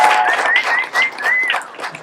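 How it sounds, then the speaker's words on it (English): A small audience at a business seminar gives a short burst of clapping in uneven bursts, with a thin whistle-like tone gliding through the middle. "everybody, can we give a little clap for a big"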